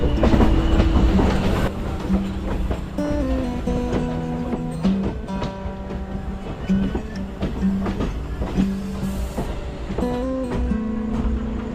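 The Tutari Express overnight train running out of Dadar toward Thane, a steady rumble with rhythmic wheel clatter and rising and falling tonal hums from the carriage, heard from on board.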